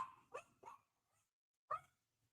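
Small dogs bark in short sharp bursts at a motorbike passing outside: two quick barks close together, a pause, then one more loud bark, fairly near with no talking.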